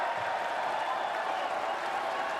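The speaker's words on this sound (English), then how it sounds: "the crowd cheers his first missed free throw" A basketball crowd at a FIBA Asia Cup 2025 qualifier between Mongolia and Japan reacts to a missed free throw with a steady, fairly distant roar of cheering and applause that stays even throughout.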